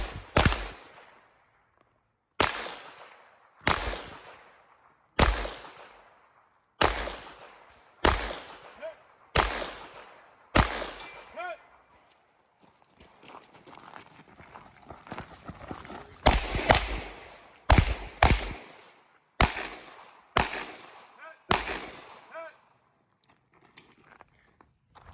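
Rifle shots ring out at the Marine Gunner's Association Hard as Hell 2-Gun match, about fifteen sharp, loud cracks with short echoing tails, fired in steady strings with a brief pause midway.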